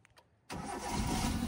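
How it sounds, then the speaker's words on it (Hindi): A car engine cranks and catches after a moment of quiet, then settles into a steady, loud idle close by; the driver starts it with the clutch fully pressed and the gearbox in neutral. "पूरा क्लच दबाओ और इंजन स्टार्ट करो"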